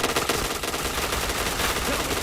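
Dense, rapid automatic gunfire in a shooting video game, a continuous rattling burst at steady loudness with no pauses, with faint voices in the background.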